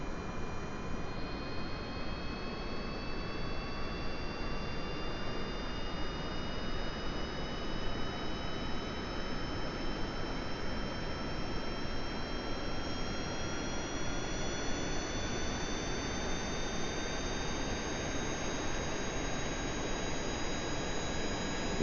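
A jet engine from the game Kerbal Space Program roars steadily throughout, a loud continuous rushing noise with rising whining tones layered over it and no talking.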